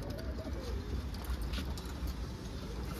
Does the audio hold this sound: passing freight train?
no